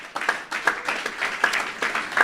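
A church congregation applauds a coordinator at a missionary gathering in Bonaire, with sparse uneven clapping that swells and fades in waves and a faint tone in the background.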